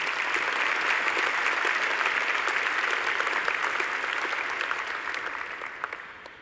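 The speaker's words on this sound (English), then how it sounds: "Please join me in a round of applause to the graduates." A large audience applauds graduates at a Faculty of Medicine graduation ceremony, sustained dense clapping that holds steady and then gradually thins and fades toward the end.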